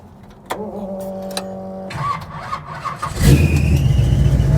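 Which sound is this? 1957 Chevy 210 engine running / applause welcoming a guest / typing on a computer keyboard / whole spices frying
1957 Chevy 210 engine running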